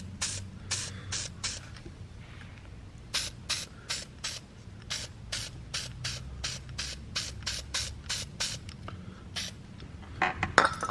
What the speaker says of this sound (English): I'm gonna take the gasket and just spray it a little bit on it so it coats it like red